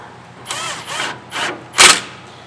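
Several short whirring bursts from a power tool with an 18 mm socket run down the rear caliper bracket bolts on a 2015 Ford F-150, four quick spins close by, the last sharper and louder.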